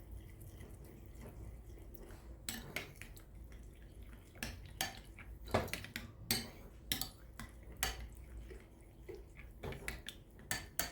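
A spoon clinks and scrapes in a bowl while a sauce with dried chives is mixed to go with courgette fries, a series of irregular light taps and wet stirring sounds, close and without talk.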